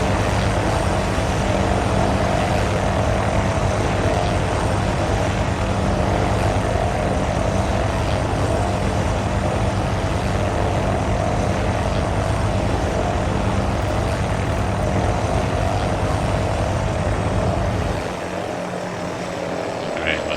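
A video game helicopter flying in to land at a helipad, a loud, continuous rotor and engine drone that holds steady and close before easing slightly at the end.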